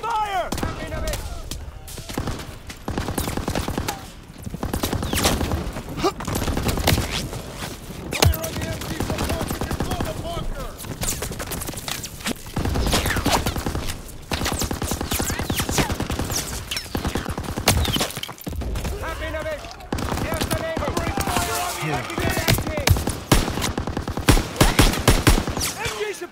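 Dense gunfire rattles almost continuously through a Call of Duty: WW2 battle on Hill 493, machine-gun bursts and rifle shots crackling close and loud, with shouted voices mixed in among the shooting.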